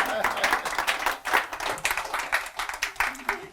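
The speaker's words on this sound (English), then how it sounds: "You can clap for Bill." Audience at a live stage show claps for a short stretch, a moderate scattered patter of many hands at mid distance that rises and fades unevenly.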